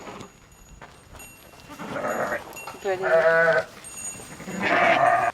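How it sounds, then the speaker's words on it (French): Several lambs bleat nearby, overlapping wavering cries rising and falling over a faint farmyard background. "C'est les agneaux."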